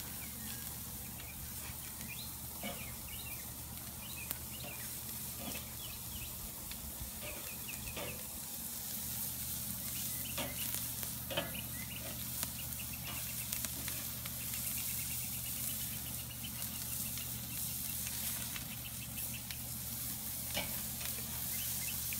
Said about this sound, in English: So I'm gonna sear these. Hold on. Yes, sir. This freaking grill is hot, dude.